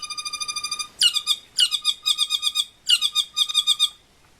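A saddleback bird calls in a clear, close series of bright whistled phrases: a steady run of even notes, then three bursts of rapid repeated notes, each burst repeating the same pattern, with no other sound around them.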